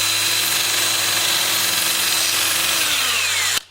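A power sander runs continuously against a mulberry live edge bowl on a wood lathe, a loud steady whine and hiss that cuts off abruptly at the end.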